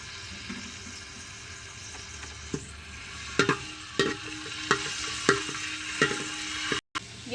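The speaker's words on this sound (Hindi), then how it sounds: "अब हमने 3 to 4 टेबलस्पून ऑयल डाला है और इसके अंदर हम बारीक चॉप किया हुआ लहसुन" Finely chopped garlic frying in three to four tablespoons of oil in a pan, a soft steady sizzle broken by several sharp stirring clinks and scrapes, close and moderately quiet.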